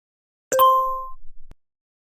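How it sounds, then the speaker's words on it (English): A cartoon cell phone gives a short, bright notification chime, a single clear ding with ringing tones that fade over about half a second, followed by a faint soft tap, with no talking. "let me check my cell phone. I think I received a notification."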